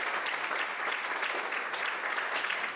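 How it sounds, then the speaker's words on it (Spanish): Steady audience applause at a public talk about stars, dense and even clapping from a crowd that holds at a constant level throughout, with no voices over it. "un aplauso para el sofocón que tiene"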